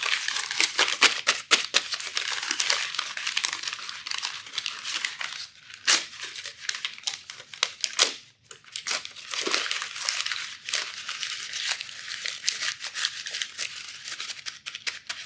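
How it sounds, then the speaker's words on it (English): A sheet of paper is crumpled and shaken as noisily as possible, producing dense crackling and rustling bursts with brief pauses, loud and close, with no talking. "for 30 seconds, I want to make as much noise as I possibly can with the paper"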